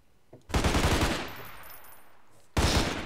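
Gunfire in Garry's Mod DarkRP: a loud burst of automatic fire with a reverberant tail fading over two seconds, then a second sharp burst cutting in, with no talk over it.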